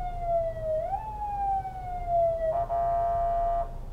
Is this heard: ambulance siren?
yes